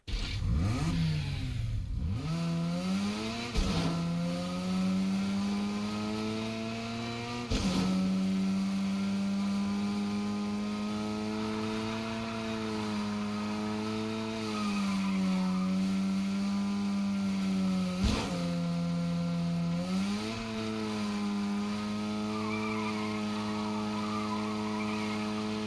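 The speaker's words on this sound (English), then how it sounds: "I'm just going to drive around so you can hear the engine sounds while it's driving" Breakout X car engine in Fortnite driven around continuously, a steady mid-pitched hum that rises and dips as the car revs and shifts, with a few sharp knocks along the way and no talking.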